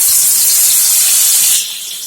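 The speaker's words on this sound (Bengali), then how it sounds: "কড়াইয়ে দিয়ে দিয়েছি তেল, তেল গরম হয়ে গেছে। এখন মাছ ভেজে নেব।" Snakehead fish pieces frying in hot oil in a wok, a loud, close, steady hiss that drops away near the end.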